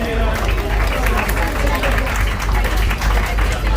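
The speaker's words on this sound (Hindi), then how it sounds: "थोड़ी सी तालियां बजा दें" Audience applause at a Defence Day awards event in Dubai, dense clapping and crowd murmur filling the hall at constant loudness, with voices underneath.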